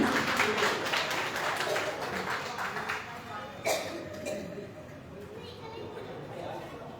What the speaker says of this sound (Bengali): আর অনেক অনেক হাততালি